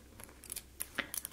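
Barber scissors handled up close during a grooming session in an Italian barbershop, giving several quiet metallic clicks and light snips in a soft, irregular run.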